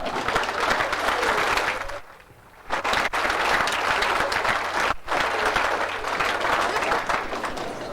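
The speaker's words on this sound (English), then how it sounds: "give yourselves one hell of a round of applause" Loud, sustained applause from a college athletic banquet crowd, thick clapping that drops away briefly for a moment and then swells back to full strength, with faint crowd murmur mixed in.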